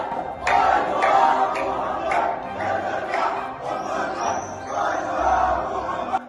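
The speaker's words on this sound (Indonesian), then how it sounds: "dari dalam Masjid Al-Aqsa terdengar suara orang-orang meneriakkan yel-yel" Inside Al-Aqsa Mosque a crowd shouts chants in rising, rhythmic waves, loud and reverberant, with voices blending into a massed roar.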